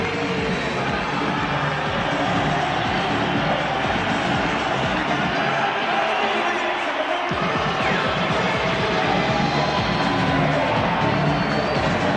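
Boxing arena crowd cheering and roaring continuously at a fight, a dense wash of massed voices sustained throughout with a brief dip in the low rumble midway.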